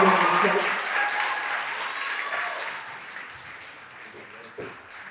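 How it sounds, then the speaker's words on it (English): A crowd at a Cultural Expressions event gives a big round of applause for Monroe, loud at first and gradually tapering off, with some voices mixed in near the end. "let's give a big round of applause for Monroe"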